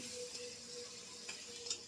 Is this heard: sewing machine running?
no